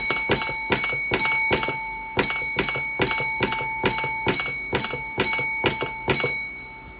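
A railway signal box block bell rings out a long code, around fifteen sharp metallic strikes in a steady tapping rhythm with a few brief pauses, close and clear with no talking.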